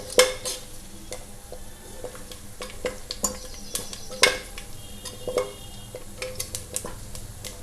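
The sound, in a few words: curry leaves spluttering while frying in oil for fish curry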